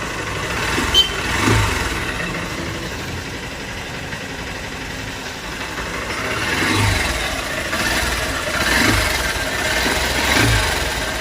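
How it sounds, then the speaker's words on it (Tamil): Honda Unicorn 160 BS6 motorcycle engine idling steadily after an oil top-up with Shell engine oil, a continuous low mechanical hum with mild swells, heard alone at close range. "இப்போ ஆயில ஃபுல்லா டாப் அப் பண்ணிட்டு இன்ஜினை ஸ்டார்ட் பண்றேன்."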